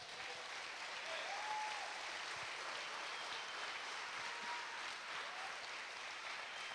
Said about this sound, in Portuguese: Pode aplaudir Jesus, irmão?